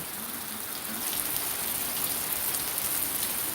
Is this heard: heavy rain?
yes